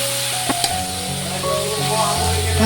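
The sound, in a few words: chopped onion and tomato frying in a pan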